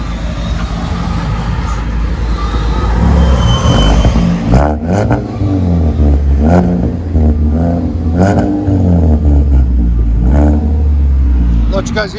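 A 2016 Ford Fusion V6 with a muffler-delete exhaust idles, then lets out a series of loud, deep, rumbling revs in quick succession, heard close up.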